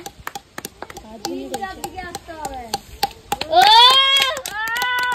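Village children clap their hands during a vegetable-matching game, sharp uneven claps close by, while kids talk and shout excitedly over them, then a child's high-pitched voice rises.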